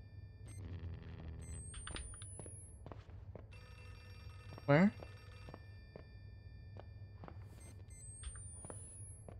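A telephone rings in a dark horror game world, Outlast II, its repeating electronic trill heard faintly amid ambient noise, with a sudden loud burst midway and a voice speaking briefly.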